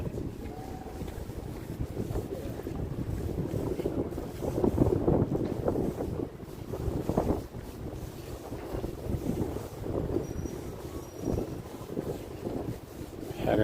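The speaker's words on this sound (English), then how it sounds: "It's windy." Winter wind on a New York City street, buffeting the microphone in heavy rumbling gusts that swell and ease continuously, with faint street noise beneath.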